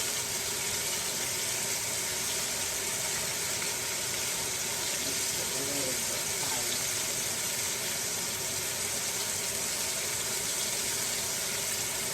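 Tap water runs in a steady, unbroken hiss for the whole stretch while hands are washed at a kitchen sink during beef stew and rutabaga prep.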